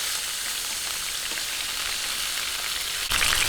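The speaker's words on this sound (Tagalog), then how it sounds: "Ganyan lang po yung gagawin natin pagpiprito." Chicken pieces fry steadily in a pan for a chilli garlic buttered chicken dish, giving a loud, continuous close sizzle with no talking over it.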